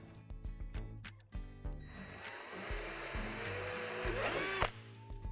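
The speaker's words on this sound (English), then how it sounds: "On the edge closer to the sink, there's one more divot that needs to be drilled out." Power drill cutting a divot into the edge of a plastic playhouse sink: after a few knocks and clicks, a sustained whirring, grinding drill run lasts several seconds before stopping abruptly.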